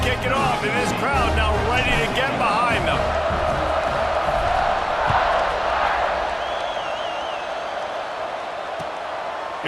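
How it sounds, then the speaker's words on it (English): Stadium crowd at a USC versus Notre Dame college football game, cheering and roaring just before a third-quarter kickoff in a tied game; a broad, swelling wash of voices and whoops, with a commentator talking over it. "and this crowd now ready to get behind them."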